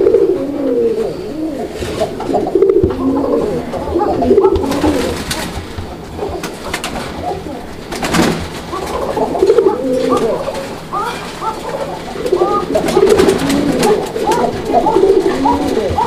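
Several Raj-Golla colouring pigeons coo steadily and repeatedly, their low, throaty calls overlapping in a continuous murmur close by throughout.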